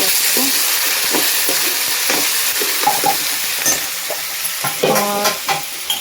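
Bora beans, chana and potatoes stirred and frying in a pan, with a steady close sizzle under repeated scraping strokes of a spoon, and a brief murmur of voice near the end.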